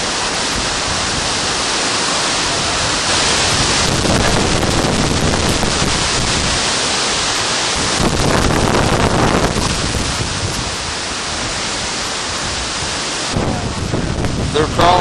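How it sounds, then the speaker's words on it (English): Hurricane Ike's strong wind gusts roar across the microphone in a continuous, loud rush of broadband noise, surging and easing in waves. "Winds gusting in excess of 50 miles an hour will continue across the area through 6 p.m."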